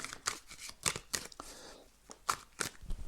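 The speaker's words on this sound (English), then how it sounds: "Shuffle some more." Quick papery riffles and snaps of cards being shuffled, several short bursts in a row, close by with no talking.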